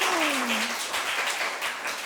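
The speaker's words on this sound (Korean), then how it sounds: "집에 들리시게 좀 박수 한번 할까요?" Church congregation applauding during a Sunday afternoon service, a dense even patter of clapping from many hands filling the room, with a brief sliding tone early on.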